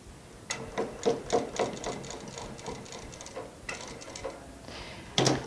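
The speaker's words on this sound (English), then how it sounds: "I'm going to stitch across the welt cord." A sewing machine stitches across welt cord in short rhythmic bursts of rapid mechanical clatter, with brief pauses between runs and a louder knock near the end.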